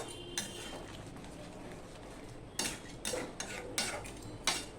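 Crab curry with garam masala and sugar is stirred in a pan, with quiet scraping and several sharp metallic clinks and taps of a spoon against the pan, which grow more frequent toward the end.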